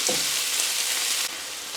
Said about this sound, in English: we're just going to allow that butter to melt.